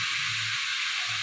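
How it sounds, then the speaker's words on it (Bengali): Spices tempering in hot oil give a steady, bright sizzle and hiss, close and even throughout, with no talking. "ফোড়ন দেবো,"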